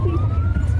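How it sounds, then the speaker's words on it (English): A police siren wails with a rising tone over the low rumble of a vehicle engine, close and loud. "They had to be driven away by the police for their own safety, with the siren on"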